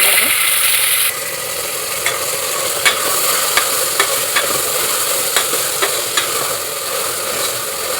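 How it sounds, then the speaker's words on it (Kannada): Sprouted grains fry in a pan with tamarind, a steady close sizzle with faint stirring clicks and scrapes spread through it. "ಇದು ಮೊಳಕೆ ಕಟ್ಟಿದ್ದು ಕಾಳು ಇವಾಗ ಹಾಕ್ತಾಯಿದ್ದೀನಿ. ಹಸಿವಾಸನೆ ಹೋಗೋವರೆಗೂ ಹುರ್ಕೊಂಡು"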